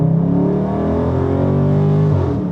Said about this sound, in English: We definitely got a lot of wheel spin there